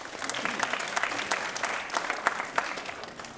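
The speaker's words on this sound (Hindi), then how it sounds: "आपका हम स्वागत करते हैं आपके भाषण के लिए जोरदार तालियों के साथ।" An audience gives hearty applause at a World Bindi-Tilak Day gathering, dense, continuous clapping with distinct sharp claps standing out, moderately close.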